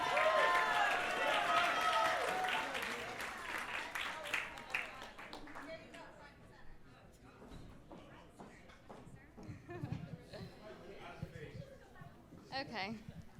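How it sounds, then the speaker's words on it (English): Wedding guests clap for maid of honor Marissa as she comes to the microphone, a scattered round of applause that gives way to crowd murmur, footsteps and talking. "Come on, clap it up for Marissa."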